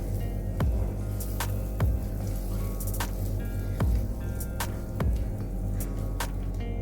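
A pot of blended tomatoes, onions, ginger and garlic being stirred for Nigerian jollof rice, with wet squelching strokes and spoon knocks repeating about once a second over a steady low hum.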